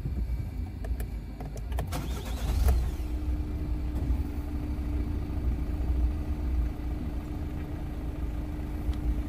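A Citroen C-Elysée turns over and starts at about two and a half seconds, then settles into a steady, close idle hum that continues to the end.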